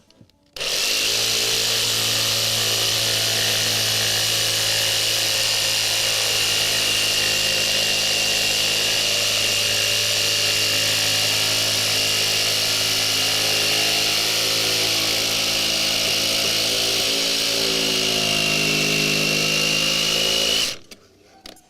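A chainsaw runs loud and steady for about twenty seconds in a workshop during a homemade mandolin build, its droning motor holding an even pitch before cutting off abruptly.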